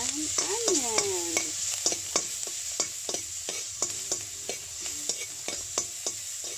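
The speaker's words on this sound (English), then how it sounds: "First, heat up the wok with butter. Add in garlic and onion." Garlic and onion sizzle in butter in a hot wok, a close, continuous frying hiss with a rapid, regular run of utensil clicks and scrapes throughout, plus a short tonal squeak early on.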